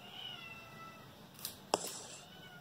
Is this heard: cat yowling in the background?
yes